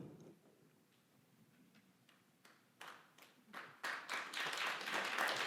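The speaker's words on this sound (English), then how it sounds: "Please, again, hold the applause." Audience applause at a city council meeting: the room is quiet at first, then scattered claps build into fuller, louder clapping over the last few seconds.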